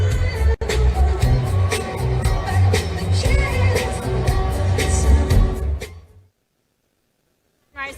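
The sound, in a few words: large rally crowd gathering at a Trump rally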